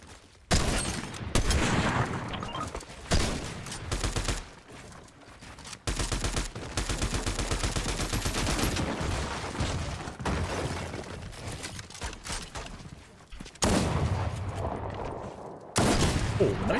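Gunfire from the video game Fortnite, with bursts of rapid shots and sharp cracks that come and go across the scene, and faint voices underneath now and then.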